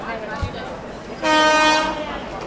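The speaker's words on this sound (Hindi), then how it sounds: "तो भाई एक और ट्रेन आ चुकी है हज़रत निज़ामुद्दीन को स्किप करने" A train, likely the Grand Trunk Express, passes Hazrat Nizamuddin station and sounds its horn in one short, loud blast over the low rumble of the line.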